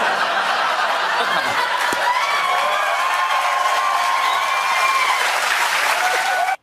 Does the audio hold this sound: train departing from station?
no